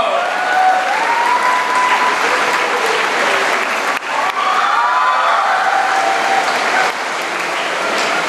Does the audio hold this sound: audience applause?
yes